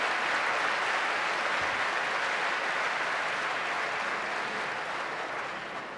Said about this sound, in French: On va d'abord l'applaudir